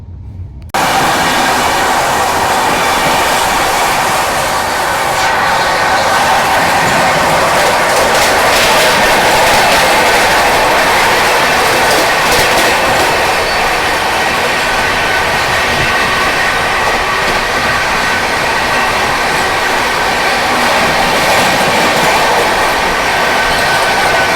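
Bilaspur–New Delhi Rajdhani Express train running on rails, a loud, steady roar of wheels with clickety-clack rhythm and faint squeals, continuous throughout with no talk.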